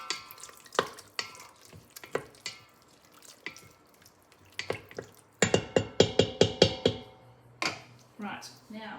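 Food sizzling and being stirred on the sauté function of an Instant Pot during a vegan mushroom soup recipe, with sharp clicks and scraping bursts, a rapid cluster in the middle, under quiet talk.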